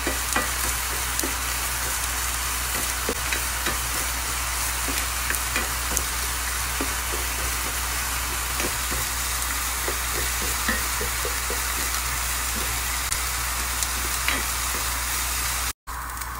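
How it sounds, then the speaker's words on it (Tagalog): Onion sautés in olive oil in a pan, giving a loud continuous sizzle with a busy patter of small pops and occasional stirring sounds throughout. "Lagyan natin ng olive oil pang gisaan ang sibuyas. Gisa natin ang sibuyas."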